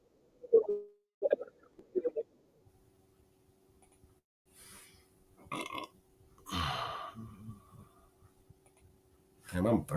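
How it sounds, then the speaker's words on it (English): Several short, close burps come in quick succession from a man, followed by an exclamation and more talking. "Damn, I'm burping all up here."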